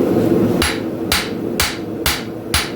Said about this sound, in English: I'm actually pulling the steel towards me when I'm hammering